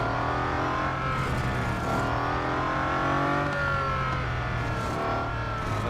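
Race car engine from the Real Racing 3 video game, a loud continuous drone with rising and falling pitch sweeps as the car accelerates and brakes through corners, steady throughout with no talk.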